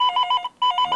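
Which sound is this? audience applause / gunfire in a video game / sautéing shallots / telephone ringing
telephone ringing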